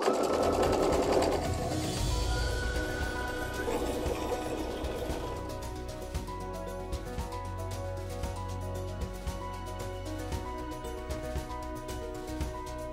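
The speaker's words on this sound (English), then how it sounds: "we're going to secure it with a few stitches and then back stitch" A sewing machine stitches a quilt border while a mitered corner is secured with a few stitches and a backstitch, running steadily for the full stretch at close range with a dense, continuous mechanical whir.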